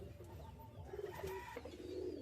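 Baby pigeons cooing softly in a loft, faint low coos under a steady background hum.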